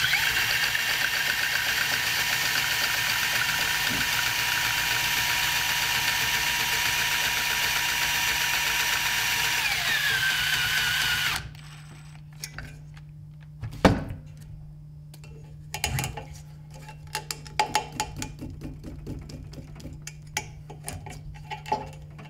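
ViperX serving tool whirring steadily while wrapping an eye loop on a bowstring blank, a loud motor hum that winds down and cuts off at about eleven seconds, followed by faint clicks and handling noises.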